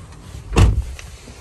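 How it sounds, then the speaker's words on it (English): A power seat motor inside a gold 2009 Chevrolet Silverado 1500 LT Crew Cab gives one short, close electric whir lasting about a quarter second, with quiet cabin air before and after. "it does have an electric option to move your seat back and forth"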